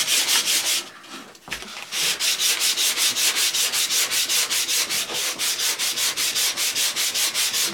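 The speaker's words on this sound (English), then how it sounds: "Only a little sanding" Wood is sanded by hand on parts for a trebuchet build, a steady rhythmic rasping of back-and-forth strokes, close and loud, with a brief pause near the start before the strokes resume.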